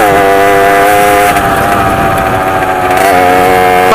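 A small motorised machine with a worn piston in need of changing, its engine running loud and close with a steady buzzing drone and slight shifts in pitch throughout.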